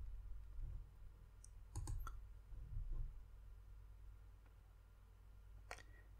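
A computer mouse gives a few sharp, close clicks, including a quick double click, over a quiet room hum with no talking.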